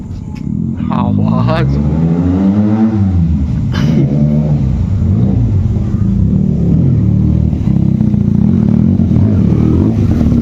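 A motorcycle engine with a superbike-like sound revs loud and close, its pitch sweeping up and down once before settling into a steady, throaty drone.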